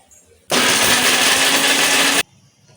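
A mixer grinder blends ingredients into a paste for paneer masala, a loud steady whir that starts abruptly, runs about two seconds and cuts off, with no talk.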